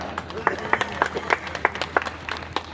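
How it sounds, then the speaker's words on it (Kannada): A ceremony audience claps for Guruji, a light scattered patter of individual claps rather than a full ovation, with some talk mixed in underneath. "ಗುರುಜಿಯವರು ಒಂದು ಚಪ್ಪಾಳೆ"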